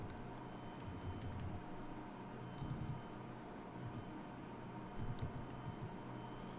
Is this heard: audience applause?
no